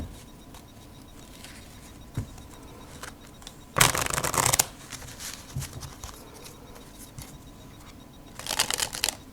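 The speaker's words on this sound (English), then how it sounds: "this is kind of an uncomfortable position to dribble the cards for me" A deck of Angel Back Squeezers playing cards, similar to standard Bicycle cards, spread and dribbled: soft card handling rustles, then two loud bursts of rapid fluttering as the cards riffle down, close to the listener.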